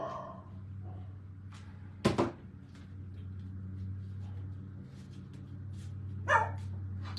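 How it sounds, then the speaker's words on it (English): A dog at a dog door gives two sharp, loud barks a few seconds apart against a steady low household hum, with faint voices murmuring in the background. "It's a dog door. You're a dog."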